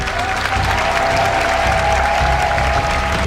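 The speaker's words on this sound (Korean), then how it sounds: "성도들의 힘찬 박수, 환호성과 함께" A church congregation claps and cheers loudly during a Friday all-night worship service, with dense, continuous applause filling the room and a sustained tone running underneath.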